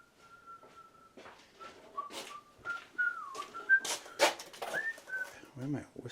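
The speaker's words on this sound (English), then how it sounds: "Where am I whistling Christmas tunes?" A person whistling a light Christmas melody in short phrases, fairly close, interrupted by clattering and rustling handling noises while repairing a Bose SoundDock.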